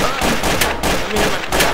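Rapid bursts of gunfire from the video game Trouble in Terrorist Town crackle loud and close, repeated shots in quick succession filling the whole moment with no talking.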